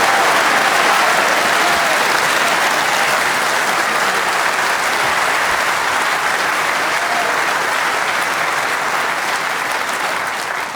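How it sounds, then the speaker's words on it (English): Snooker crowd at the 2013 World Championship semifinal between Ronnie O'Sullivan and Judd Trump applauds a positional shot, a loud, sustained, even roar of clapping lasting the whole stretch before tapering slightly at the end. "that round of applause, it sounded like he just won a tournament"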